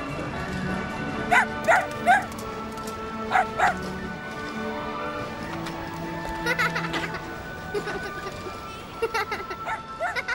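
A dog in an animated children's series yips and barks in short bursts of two or three, with whimpering between them over a soft background.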